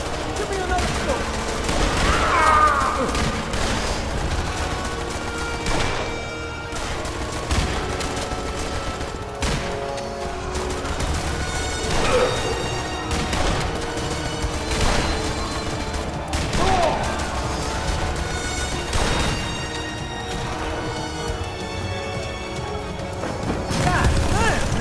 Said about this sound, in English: that's some shooting